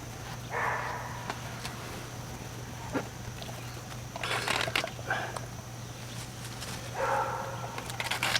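Dogs bark at a big campground on a ridge next to Monroe Lake, a few scattered, fairly distant barks in short bursts over a steady low hum.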